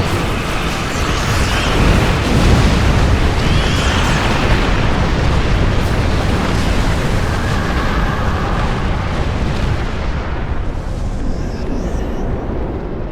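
Spaceship weapons fire and explosions from a space battle against Alachi vessels near a rift in the Star Trek Online game, a dense, loud, continuous roar of booming blasts that thins toward the end.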